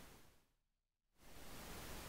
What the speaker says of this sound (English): So if we play our pink noise,